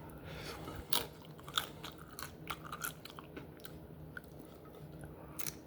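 Someone chewing tacos up close, with soft crunchy bites and steady mastication, quiet and without talk.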